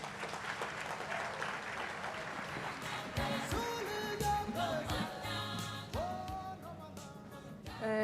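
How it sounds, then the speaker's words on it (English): Audience applause at the official launch of a TVET college's Centres of Specialisation and 4IR lab, a steady round of clapping lasting throughout with music playing underneath and growing more prominent. "Let's give her a round of applause."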